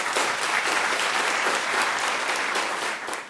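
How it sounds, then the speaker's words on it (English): An audience applauds the teams at a school quiz competition, with loud, sustained, dense clapping that fades slightly at the very end. "A round of applause for both teams"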